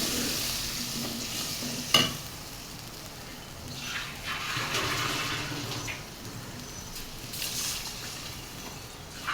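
Water poured into chili masala frying in a pan for a fish curry with bottle gourd and shrimp, settling into a steady hiss of simmering with a sharp clatter near the start and faint stirring.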